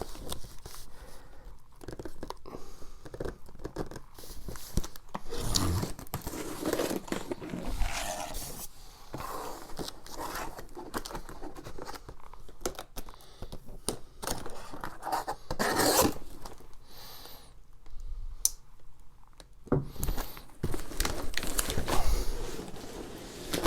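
Cardboard packaging for a taped-up guitar kit is pulled open with scraping, rustling and tearing, close and fairly quiet, in irregular bursts.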